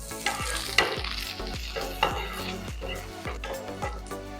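Dried red chillies, broken in two, sizzle with a sprig of curry leaves in hot oil for a Kerala tomato curry tempering, crackling steadily with periodic sharp spatters and a low stove hum, no voices.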